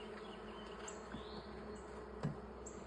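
Honeybees hum at a low, steady level inside a white hive box during an egg check, a faint continuous drone with a brief knock partway through.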